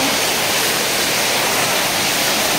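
Rainwater rushing over and down concrete house steps during a heavy downpour, a dense, continuous close wash of flowing water with no breaks and no voices.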